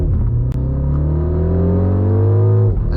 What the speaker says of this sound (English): And you get 10 seconds of this really cool boost mode, and you definitely feel it kicking you in the back of your seat.